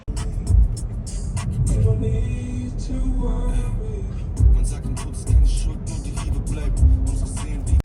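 A car drives off along a road, its engine rumble steady and low with a few louder surges, while general outdoor traffic noise fills the background.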